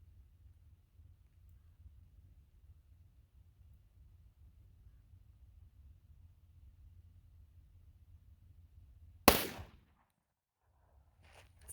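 A Glock 33 pistol fires a single shot of .357 SIG Glaser safety slug ammunition, a sharp, loud crack that stands alone after a long stretch of low outdoor rumble and wind, with a short decaying echo.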